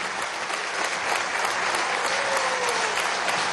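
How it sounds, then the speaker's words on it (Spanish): An audience at a Venezuelan government event in Yare gives sustained applause, a thick, continuous clapping that fills the whole stretch with a faint crowd murmur underneath. "Vamos a recibir con un aplauso"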